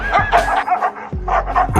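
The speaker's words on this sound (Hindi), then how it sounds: "जैसे ही फिर गेट बंद करते हैं वैसे ही फिर दोनों एक दूसरे पर भौंकने लगते हैं" Two dogs bark back and forth at close range, quick overlapping yaps and woofs in short bursts.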